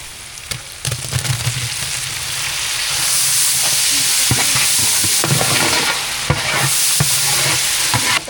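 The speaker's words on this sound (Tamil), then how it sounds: "வெங்காயம் நல்லா வதங்கிடுச்சு அது கூட வந்து தக்காளி சேர்த்துக்கலாம்" Onions and tomatoes with salt fry loudly in oil for mutton biryani, a close, continuous sizzle broken by repeated scraping strokes of a spoon stirring the pan.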